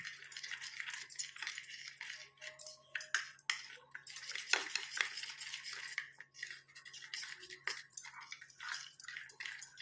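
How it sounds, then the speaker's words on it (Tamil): A spoon stirs an instant coffee mixture in a cup until it turns creamy, scraping and clinking in close, irregular strokes throughout, with no speech. "இப்போ இதை சேர்த்து நல்லா மிக்ஸ் பண்ணிக்கலாம். நல்லா உங்களுக்கு க்ரீம் மாதிரி வந்துடும்."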